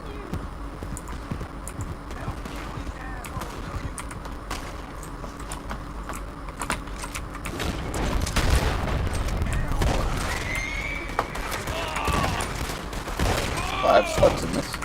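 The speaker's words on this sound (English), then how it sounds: "Let's use the shotgun." Shotgun blasts loaded with slugs during a raid in Red Dead Online, scattered booming shots over a busy background of hoofbeats and distant gunfire, the firing growing heavier and louder midway through.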